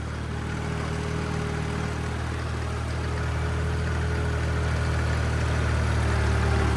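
New Holland 3630 tractor pulling a rotavator through a field, driving straight with a steady, loud low diesel drone and a faint rhythmic thrum, building slightly louder as it goes, with no voices.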